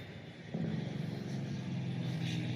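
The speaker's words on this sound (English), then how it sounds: "All the noise you hear is from the traffic circle behind me." Traffic on a traffic circle rumbles nearby, a low steady drone of passing vehicles that swells after a quiet start and stays continuous, no talk.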